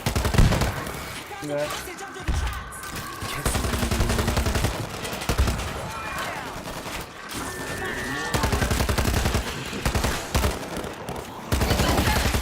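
Rapid bursts of gunfire and a grenade blast in World War Z, loud and continuous, with shouted talk layered over the battle noise.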